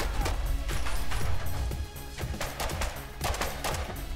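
Gunfire in the video game Fallout Shelter cracks out as rapid, loud repeated shots in uneven volleys, closely spaced and continuous across the clip, with no voices.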